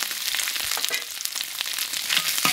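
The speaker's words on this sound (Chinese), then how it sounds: "把它炒一下，炒一下把油炒出来" Pork fat frying in a wok gives a steady, close, crackling sizzle with dense popping spatter throughout, with no talk.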